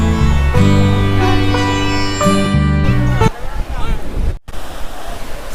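Sea waves breaking on Murudeshwar beach in Karnataka, a loud steady surf roar heard partly under music at the start, then open wash and wind noise.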